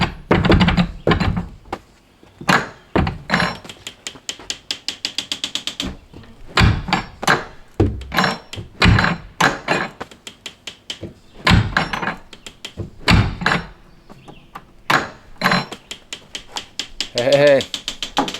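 Wooden solar shed door on a homestead in Michigan, swinging and latching with an inside lever latch: a string of close, sharp knocks and thunks in uneven bursts, with brief rattles between impacts.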